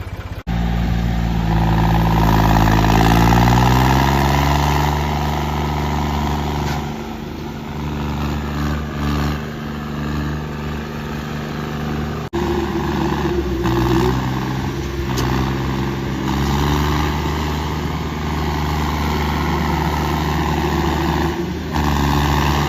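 A John Deere 5210 tractor engine runs steadily and loud on a dirt track for a tow-pulling contest, with a deep throbbing rumble that rises in revs early on and keeps droning throughout.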